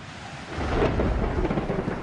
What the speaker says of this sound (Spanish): Esa noche una terrible tormenta invernal sopló sobre los soldados, estremeciendo el cielo con truenos y relámpagos